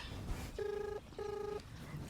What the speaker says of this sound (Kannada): ರಿಂಗ್ ಆಗತ್ತದ್ರಿ